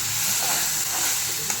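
Tomato cashew paste with ginger garlic frying in a pan makes a soft, even sizzle that runs briefly without pause or talk.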